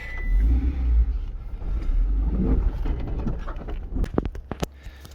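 A Honda CR-V pulls away with a low engine rumble and a rising rev, near and fairly loud, followed by a few sharp clicks and knocks as it moves off.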